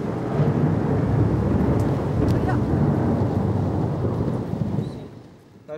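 A thunderstorm with heavy rain on the Amazon River, a dense, steady roar of rainfall with low rumbling thunder running throughout, loud and close, easing off toward the end.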